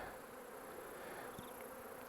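Honeybees buzz around a healthy hive in a bee yard, a dense, continuous droning hum heard close and steady throughout, with no voices.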